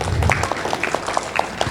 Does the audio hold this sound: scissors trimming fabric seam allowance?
no